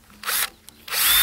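An electric drill bores 4.2 mm holes in a metal garden gate, with two loud bursts of drilling and a short quiet gap between them.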